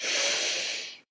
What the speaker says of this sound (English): take a deep breath in and just release it